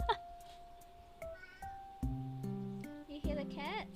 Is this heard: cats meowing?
yes